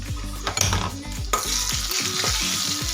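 Mustard and cumin seeds sizzling in hot oil in a pan for a Maharashtrian vegetable dish, a steady close crackling hiss with small popping spurts and a few stirring scrapes, no talk.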